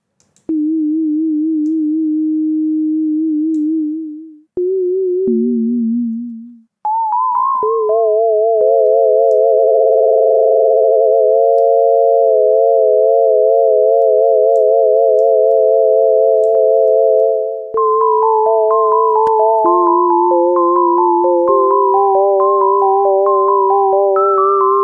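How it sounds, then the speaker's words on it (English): A basic synth plays a bright sustained tone whose pitch wobbles under steady LFO modulation, stepping through several notes, loud and close, with no voices. "as you can hear, we have built a very basic synth"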